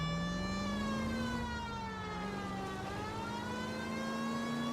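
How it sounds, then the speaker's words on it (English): A police car siren wails in the LA Noire video game, a steady rising and falling electronic tone with strong harmonics, sustained and fairly quiet over a low engine rumble. "Put the siren on."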